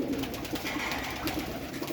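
Pigeons at a bird sale give soft, continuous throaty coos close by against a noisy, busy background, without speech.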